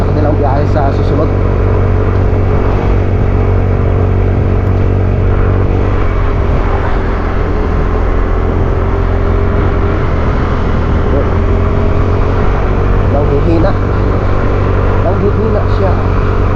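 A motorcycle engine runs steadily and loudly throughout, a constant low drone with talk over it.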